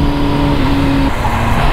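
A Honda CBR 1000 RR-R Fireblade sport motorcycle engine pulls hard under acceleration, a loud, steady, close-up drone with a rising tone that then drops as it shifts.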